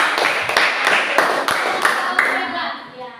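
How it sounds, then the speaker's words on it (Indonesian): Pupils in a sixth-grade classroom get a short burst of hand clapping, several sharp claps in an irregular rhythm, close by and mixed with children's voices. "kita berikan tepuk tangan."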